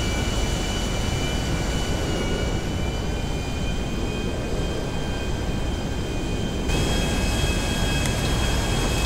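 Steady, loud roar of a private luxury jet engine in GTA 5, the Nimbus cruising after gear-up, a continuous broadband rumble with a faint high whine and no talk.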